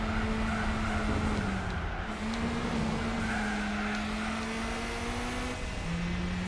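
Race car in Gran Turismo 4 braking hard into a downhill braking zone, a steady loud engine drone with a sustained tire squeal running through the whole stretch, no talk.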